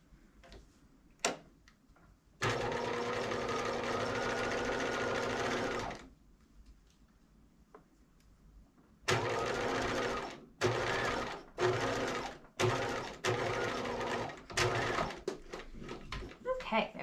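A sewing machine stitches the epaulets of a capelet in close, steady runs, one long stretch and then several short bursts, with quiet gaps between the runs.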